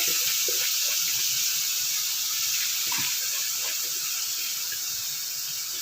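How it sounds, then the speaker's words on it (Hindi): Moong dal goes into a hot pan with half a cup of water and sets off a loud, steady hiss and sizzle that fades slowly, with faint bubbling and no speech. "अब इसमें सिंपल हम दाल ऐड करने लगे हैं।"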